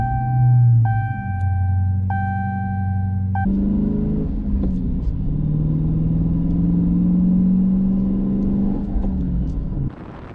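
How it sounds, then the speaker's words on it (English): Close engine rumble of a car with a manual three-pedal gearbox, rising and holding steady through revs before it cuts off near the end, with no talking. "This car has three pedals."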